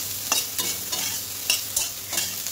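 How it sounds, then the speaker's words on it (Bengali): Soybean chunks frying in a pan and stirred steadily, a bright continuous sizzle broken by rhythmic scrapes and knocks of a spoon every half second or so, near and moderately loud. "এবার দেখো সয়াবিনটা আমি ভালো করে একটু ভেজে নেব"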